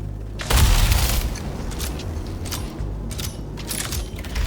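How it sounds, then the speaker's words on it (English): A Zenith laser sniper rifle fires once in Star Citizen, a sharp, booming discharge with a heavy low thump, followed by lingering mechanical clatter and a few fainter crackling bursts. "Now let's do 50 meters with a chest shot."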